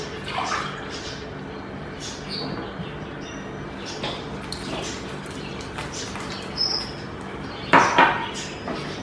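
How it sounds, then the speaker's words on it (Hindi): Water is poured from a cup into a pot of Arabic chicken curry stew, a steady wash of splashing with a few louder clinks of the pot near the end. "अब इसमें हम पानी ऐड करेंगे।"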